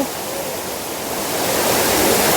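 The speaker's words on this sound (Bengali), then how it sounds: "এই ঝর্নার জলটা উপর থেকে পড়ছে" Lodh Falls pours down from above in several streams, a loud, steady broadband roar of falling water that swells slightly toward the end, with no voices.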